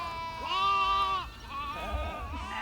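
A goat bleats once in a long, wavering call, close and clear, then gives a shorter, softer follow-up bleat, with low background rumble beneath.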